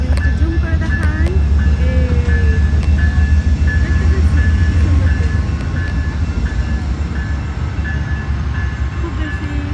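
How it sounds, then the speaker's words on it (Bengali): A train passes in the distance beyond a park in America, heard as a low, steady rumble throughout, with faint higher tones drifting over it while people talk nearby. "এই কি সুন্দর ট্রেন যাচ্ছে"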